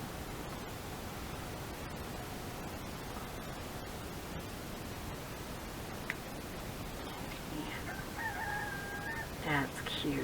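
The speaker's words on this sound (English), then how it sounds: "Roosters are just talking up a storm today, aren't they?" Roosters crowing, heard as a couple of distant, thin cock-a-doodle-doo calls rising out of steady background hiss near the end.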